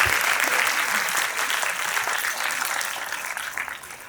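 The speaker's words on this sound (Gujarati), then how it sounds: "તો એકવાર ફરીથી જોરદાર તાળી થઈ જાય આપણા સૌના માટે" An audience at a school annual day event claps loudly and continuously, a dense wash of applause that holds steady and then eases off slightly toward the end.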